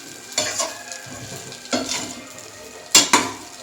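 Idli fry coated in idli podi is stirred in a pan, giving repeated scraping strokes with metallic clinks of the spoon over a soft sizzle, four or five distinct bursts spaced across the clip.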